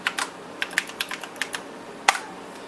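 Quick keystrokes clatter on an NEC PC-9821 Ce2 computer keyboard, a dozen or so light, uneven clicks in a short burst with one sharper tap near the end, close and clear with no talking.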